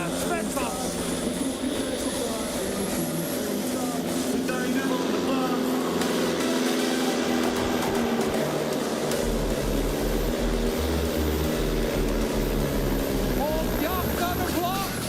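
A pulling tractor's engine revs hard and loud through a 3.4 ton pull at a tractor pulling event, a sustained roaring drone with rising pitch, heard under commentary and crowd noise.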